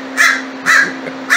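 A pet crow caws three times in a slow, even rhythm, each harsh call loud and close against a quiet indoor background with a steady faint hum.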